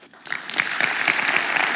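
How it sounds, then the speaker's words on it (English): Applause from a crowd after a speech about Norwegian Friluftsliv, a dense wash of clapping that starts abruptly and holds steady and fairly loud throughout. "Round of applause for that."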